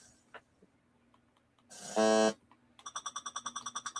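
Electronic beeping from the Intellivision game Return to Cloudy Mountain: a brief loud buzzing tone, then a fast, steady run of about a dozen rhythmic high beeps, with faint game sounds in between.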